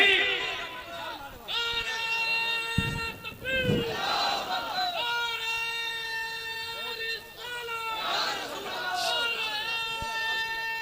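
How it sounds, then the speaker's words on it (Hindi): A large crowd at a religious sermon chants the Takbir slogan back in unison, many voices rising together in sustained, rhythmic calls that swell and fade in loud waves. "नारे तकबीर"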